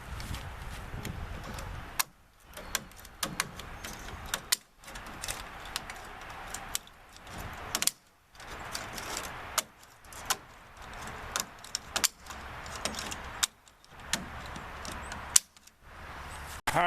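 Tin snips cut through sheet material while a chicken tractor is being built, giving a run of crisp metallic clicks and snaps in short bursts with brief pauses between them, close by and with no talk.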